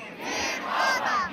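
A large protest crowd in Liberation Square, Egypt, roars and cheers in a sustained, dense wall of voices, loud and continuous without pauses.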